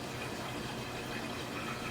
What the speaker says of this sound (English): there's more water going through the valve now, because all that debris is not there